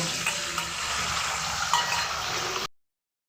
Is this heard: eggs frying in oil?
yes